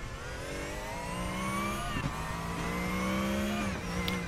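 Porsche Cup race car in the RaceRoom racing game, a continuous high-revving engine drone rising in pitch through the gears, with brief dips at shifts around two and four seconds.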